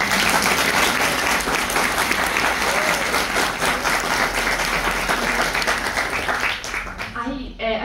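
Loud, sustained applause from an audience honoring a state deputy at a Brazilian tax reform talk, dense clapping filling the room for several seconds before tapering off near the end.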